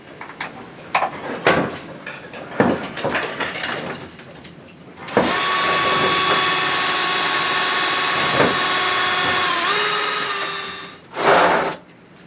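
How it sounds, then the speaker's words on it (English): A power screwdriver drives screws into wood for a small egg tray: several light knocks and handling clatters come first, then a loud, sustained whirring drive that drops in pitch as the screw seats, followed by a short second burst. "Screwdriver back in again."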